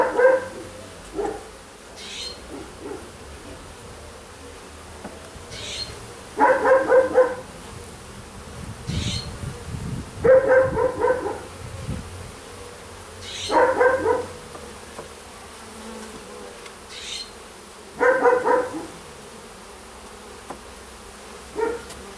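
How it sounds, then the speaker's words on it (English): Angry honeybees at a top bar hive buzz in intermittent loud bursts close to the microphone, rising and fading repeatedly over a quiet outdoor background with no speech. "We got some mad bees."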